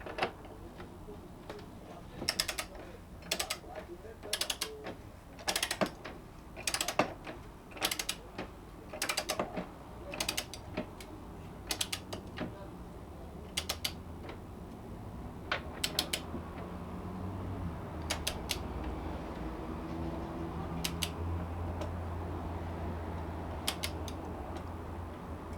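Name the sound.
torquing Kawasaki ZZR1400 nut to 127 Newton meters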